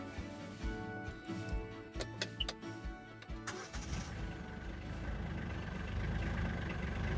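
A Kioti K9 UTV engine rumbles into life after a few clunks and knocks, settling into a steady, close, low idle that grows slightly louder and holds.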